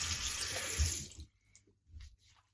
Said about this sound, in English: just splash my face with cold water